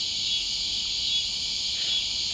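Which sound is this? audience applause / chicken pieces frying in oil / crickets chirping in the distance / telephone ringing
crickets chirping in the distance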